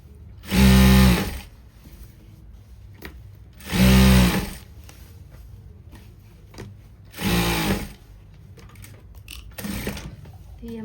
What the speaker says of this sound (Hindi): और अब हमारी इसकी सेंटर की सिलाई लगेगी जो कि इलास्टिक के ऊपर लगानी है हमें।